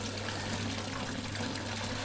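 Water begins running out of a pipe from an outdoor aquarium setup, a steady, even trickling and pouring wash that holds at a constant level without pause.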